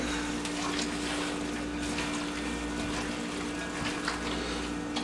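A runny rice and bacon stuffing for a grilled cabbage head is mixed, giving a steady, fairly loud wet sloshing and churning that carries on evenly throughout without talk.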